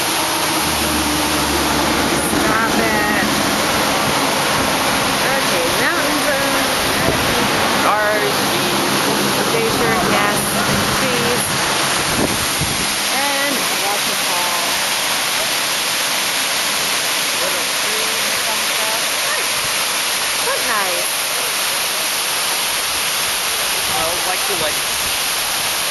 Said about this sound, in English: Taking a whole video of the immense